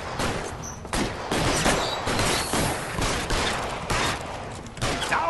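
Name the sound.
gunfire in a police shooter video game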